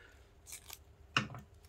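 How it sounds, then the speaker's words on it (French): Scissors snipping small strips of paper for a handmade card, a few light close snips followed by one sharper, louder cut, set against quiet room background. "vous venez couper des petites bandes comme ça"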